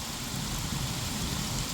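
Heavy monsoon rain in Ferozepur district, Punjab, falls with strong winds, making a dense, continuous hiss of downpour with a low rumble beneath it. The sound is moderately quiet and carries no speech.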